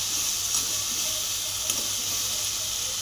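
Suran (elephant foot yam) pieces frying in oil with turmeric and salt, a steady bright sizzle and hiss holding evenly throughout, close and continuous with no voices.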